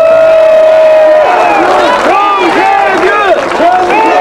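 A crowd at a Korean election campaign rally claps and cheers loudly after a call for applause, with a sustained shout at the start and then overlapping whoops and yells over dense clapping.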